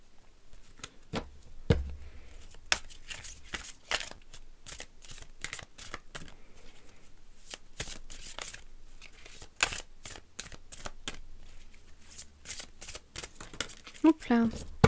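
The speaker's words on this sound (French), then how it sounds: "je vais maintenant piocher une carte de l'oracle d'Isis" Cards from an Isis oracle deck shuffled and drawn, a long run of rapid papery flicks and riffles, close and fairly quiet, with a voice speaking intermittently.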